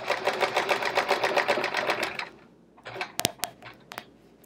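A home sewing machine runs fast during free-motion quilting, its needle chattering in a rapid, even rhythm for about two seconds before stopping, followed by a few sharp clicks and light handling noises.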